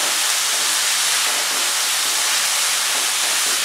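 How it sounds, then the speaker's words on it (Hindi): Capsicum in three colours sautéing in a pan for pizza buns, a steady, dense hiss of frying that stays even and close throughout, with no talk. "अब ये कैप्सिकम को भी हमें सौते करना है। ये थोड़ा सा सौते हो चुका है।"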